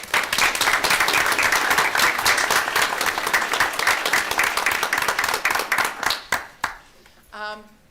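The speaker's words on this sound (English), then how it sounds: "I would like to just have a round of applause for all of the family that is here this evening" Dense, loud applause fills a school board meeting room as the audience claps for families present, sustained for several seconds before tapering off into a few scattered claps and a voice speaking.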